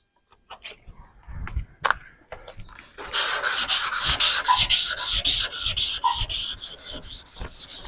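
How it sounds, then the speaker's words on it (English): Steady scratchy rubbing of 600-grit sandpaper on a sanding block drawn back and forth over a 1991 Camaro fender, close and continuous after a few scattered knocks and shuffles at the start. "I'll take my 600 grit sandpaper, my sanding block"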